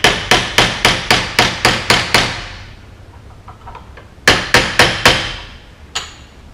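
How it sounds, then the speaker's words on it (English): A hammer strikes a chisel against the rubber bushing of a Mazda MX-5 front upper control arm: a fast, even run of about nine sharp metallic blows, a pause, then four more and a last single hit, close and loud. "now we have this chisel. I'm just going to get on the edge here, carefully see if this thing will pop loose"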